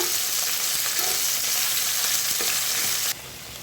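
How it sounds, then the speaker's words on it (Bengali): Leaves stirred in a hot pan, a loud steady frying hiss with scattered soft scraping taps that drops suddenly quieter near the end. "এটাকে নাড়াচাড়া করে নেবো"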